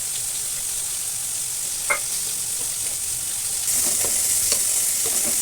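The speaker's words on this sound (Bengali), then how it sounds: "এবার ডালটাকে দিয়ে দিচ্ছি" Moong dal being fried and stirred with spices in a pan while fish heads are cooked with it, a steady close sizzle with a few scraping stirs of the spoon and no voices.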